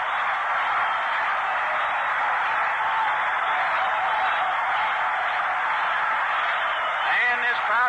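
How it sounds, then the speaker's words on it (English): Large baseball stadium crowd at a World Series game between the Cardinals and Yankees roars steadily after a double, a dense, loud sustained cheer filling the whole stretch, with an announcer's voice faintly woven in. "And this crowd comes to life now."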